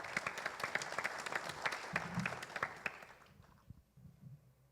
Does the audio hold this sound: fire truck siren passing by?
no